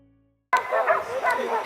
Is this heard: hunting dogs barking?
yes